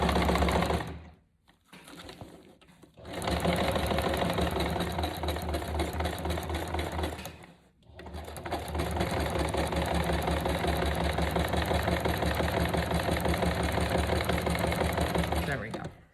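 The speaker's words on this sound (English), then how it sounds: "I'm gonna sew it" A sewing machine stitching panels for a handmade journal, running in long rapid rhythmic bursts close by, with two brief pauses between runs; a person talks over it.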